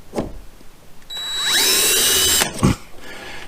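A power drill whirs up to speed and runs steadily for about a second before stopping while marking a hole during a kayak accessory install, with a couple of sharp clicks around it.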